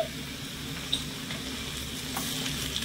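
Ground ivy gourd paste frying in oil in a pan, a soft, steady sizzle with a couple of light spoon taps, close and quiet, no speech.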